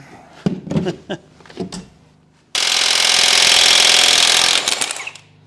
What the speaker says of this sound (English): You need a bigger rattle gun.